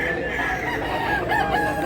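A large gray rooster crows close by in one sustained, strained call that carries over a steady background murmur.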